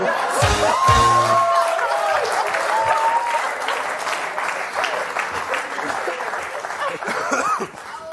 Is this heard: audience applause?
yes